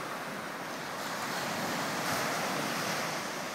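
Ocean surf washes onto the beach at Haena Cove on Kauai at low tide on a calm sunny morning, a steady broad wash of waves mixed with wind noise on the microphone.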